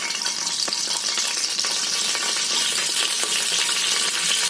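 Curry leaves hitting hot oil in a pan for a spicy mutton kheema, producing a loud, continuous crackling sizzle with scattered sharp pops, close up and without talk.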